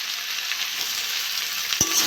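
Tomatoes, salt and chilli powder sizzle steadily in hot oil in a pan for a tilapia, kohlrabi and potato curry, a dense continuous frying hiss with a sharp scrape of stirring near the end.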